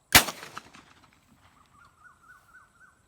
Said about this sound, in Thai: อุปกรณ์กระบอกไล่นกไล่สัตว์ลันทุ่งครับ